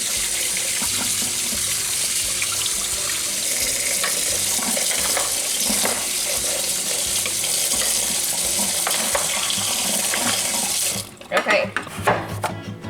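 Vegetables rinsed under a running kitchen tap, a steady loud rush of water with rattling and splashing that stops abruptly near the end.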